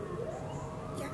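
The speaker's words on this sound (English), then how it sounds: "there's an ambulance." Ambulance siren passing outside during flood cleanup, a faint wailing tone rising and falling under low background noise.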